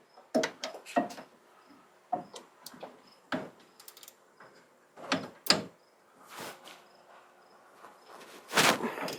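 A socket wrench works on a bolt of a 1967 Mustang in a home garage, giving scattered close clicks and knocks at uneven intervals over a quiet background.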